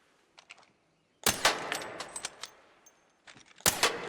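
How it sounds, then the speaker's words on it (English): Osprey rifle shots in the video game ARC Raiders, a few sharp loud reports with short spaced bursts and clattering tails, separated by quieter game noise. "you're trying to fire those shots off"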